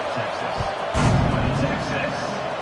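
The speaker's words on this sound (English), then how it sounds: "this crowd is buzzing after that last score" A football stadium crowd keeps up a steady, loud, dense roar of many voices, swelling briefly partway through.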